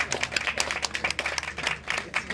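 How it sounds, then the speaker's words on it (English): A small audience at a Gator Park alligator show breaks into light, uneven clapping, a brisk patter of hands from several people at moderate distance. "Sometimes people clap."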